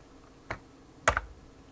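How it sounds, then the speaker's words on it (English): A few keystrokes on a computer keyboard while testing a terminal on a Brother WP-1 word processor fitted with a serial interface: one isolated click, then a quick double tap about half a second later, close and fairly quiet. "you can see me typing STTY"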